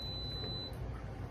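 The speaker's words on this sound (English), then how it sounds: "the timer is going off" A kitchen timer beeps with a single steady high tone under a low hum of room noise in a home kitchen while a chicken pot pie bakes, faint and continuous for about a second.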